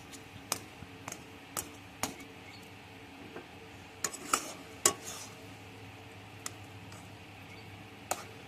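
Spoon stirring crumbled chhana into thickened milk in a pan (kadai) while making kancha golla sweets, giving sparse clicks and scrapes against the metal at an irregular pace, fairly quiet, with no talking.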